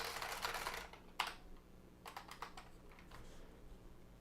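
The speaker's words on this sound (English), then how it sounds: "I just want to type something." Typing on a computer keyboard, a quick burst of soft clicking keystrokes followed by a single sharp tap, then scattered lighter clicks, close but quiet.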